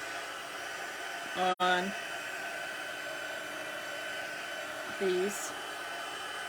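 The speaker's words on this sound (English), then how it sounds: "So now I have a heating tool. And I'm just going to just turn that on just a bit." A heat tool blows hot air over craft pieces to dry them, giving a steady, close, breathy whoosh throughout. A short spoken phrase cuts in briefly.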